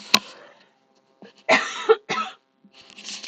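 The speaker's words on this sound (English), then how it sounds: "I just need to cough." Several sharp coughs, one short burst followed by a louder cluster of two or three harsh coughs, then softer throat sounds; close and clear.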